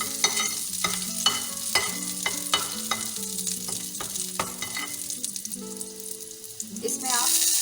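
Chicken 65 ingredients frying in oil until golden brown produce a continuous sizzle with intermittent stirring clatter, set against background music with clear tonal notes. The sizzling swells louder in the final second.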